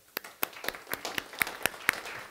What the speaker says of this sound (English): One applause, first of all.